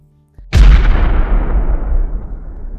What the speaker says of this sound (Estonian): lõpuks käib pauk ja maja variseb kokku